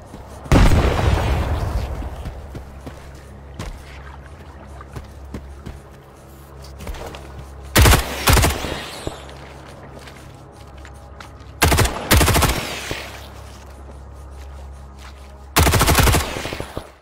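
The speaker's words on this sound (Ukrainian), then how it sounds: "В даному випадку було б доречно кинути в них гранату і після цього розібратися вже пістолетом з тими" Combat in the S.T.A.L.K.E.R. 2: Heart of Chornobyl video game, with a grenade explosion early on followed by several separated bursts of loud gunfire over a steady low background hum.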